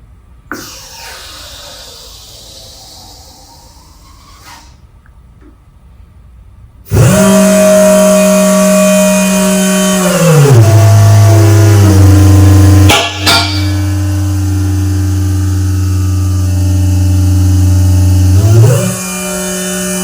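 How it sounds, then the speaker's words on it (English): Hydraulic pump on a Calder HydroPro universal straight valve tester starts after a quiet stretch. It runs as a loud, steady mechanical drone, dips in pitch partway through under load, then rises again near the end. "So I'll turn the pump on. It's going to be a little bit noisy"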